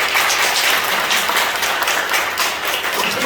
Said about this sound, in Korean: 그래서 보험료 많이 내는 사람이 박수 한번 쳐봅시다.